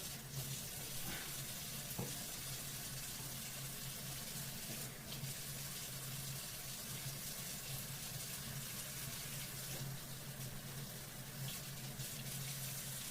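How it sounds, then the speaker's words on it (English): A tap runs steadily while hands are washed beneath it, a continuous close hiss of water with faint splashes and small knocks. "Wash my hands."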